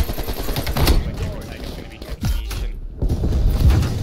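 An AK rifle fires in Black Ops Cold War, with several close, loud automatic bursts in quick succession, short pauses between them, over game background noise.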